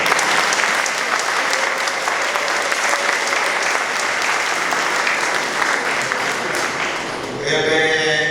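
Congregation in a church applauding a spontaneous choir at a baptism, a loud, continuous crowd of clapping hands that briefly dips before resuming.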